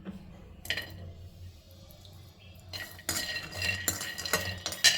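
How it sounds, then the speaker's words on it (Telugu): Peanuts roasting in a pan while being stirred with a metal spoon, close and quiet, with light scraping and clinking that grows busier and louder in the second half. "ఫస్ట్ అయితే పల్లీలు అయితే వేయించుకుంటున్నాము"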